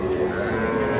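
A young bull calf lows at a busy cattle market, a steady, close and fairly loud moo filling the short moment over crowd murmur.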